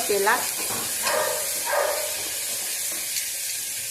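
A spice mixture sizzles and fries in hot oil for a pea masala rice dish, a steady crackling hiss with a few brief stirring scrapes, with someone talking over it.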